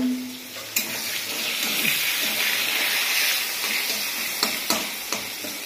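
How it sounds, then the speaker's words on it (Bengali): Pointed gourd (potol), cut into four pieces, fries in hot oil, a steady close sizzling hiss broken by a few sharp stirring clicks. "এটা হবে এখন, পটলটা ভাজা হোক।"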